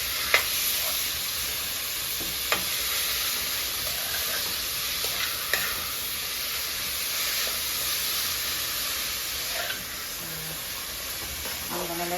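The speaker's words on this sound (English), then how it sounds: "I'm gonna let this fry for a few minutes" Food sizzling and frying in a pot with a pinch of salt added, a steady broadband hiss filling the whole stretch with a few faint clicks of a utensil or lid, no voices.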